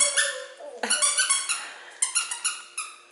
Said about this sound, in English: you want to squeak the toy again?